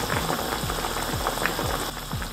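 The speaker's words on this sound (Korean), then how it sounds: "그리고 물을 끓어오르게 해주세요." Water heating toward a boil in a wide paella pan for a meaty Valencian paella, tinted yellow with turmeric; a steady close, dense bubbling and simmering hiss with no talk.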